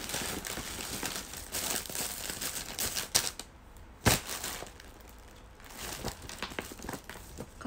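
A paper bag rustles and crinkles close by in busy bursts, with sharp crackles around the middle and a quieter stretch before more handling resumes, with no talk.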